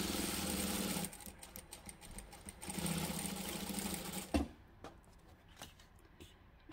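A sewing machine stitches and backstitches a fabric dog poop bag pouch seam, whirring steadily up close for several seconds before stopping, followed by faint clicks and fabric handling.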